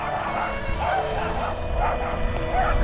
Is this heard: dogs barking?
yes